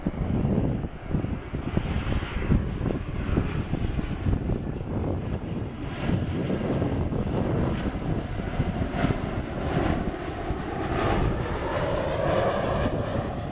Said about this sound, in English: now we have an Embraer Lineage 1000 operated by Air X coming in here to Dulles International Airport